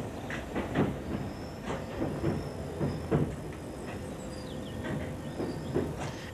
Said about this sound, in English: Edgware trains are nearby, however.